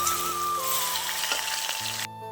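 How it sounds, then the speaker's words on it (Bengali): Pieces of elephant apple (chalta) sizzle steadily in hot oil in a pan, a close, continuous frying hiss that cuts off abruptly near the end. "দিয়ে আমি চালতাগুলোকে ভালো করে ভেজে নেব।"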